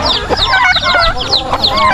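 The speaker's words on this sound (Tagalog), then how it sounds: "Ah, may kaaway silang manok. minsan ganyan sila, nag-aaway-aaway din." Farm chickens squabbling, loud close clucking and agitated squawks overlapping in quick bursts as the birds fight.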